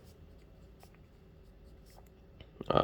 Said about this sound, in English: A roller ball, because those can be hard on papers.